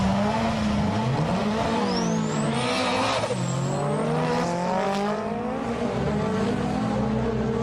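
An old-school JDM drag race car bogs down at launch and then winds up, its engine note sagging and rising in long revving sweeps with faint tire squeal, loud and continuous.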